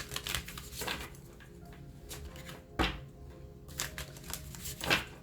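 Tarot cards shuffled by hand up close, a run of crisp riffling bursts and soft slaps at irregular intervals, the sharpest snaps near the middle and end, alone without any talking.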